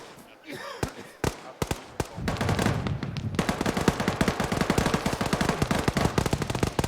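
Autocannon firing during a military field exercise, with scattered heavy shots at first giving way to a dense, continuous burst of rapid reports that carries on to the end.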